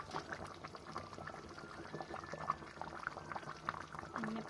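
Chicken curry bubbles and simmers in a pot as it reduces, with the oil separating. Soft, continuous popping and sputtering runs steadily throughout at a low level, with no voices.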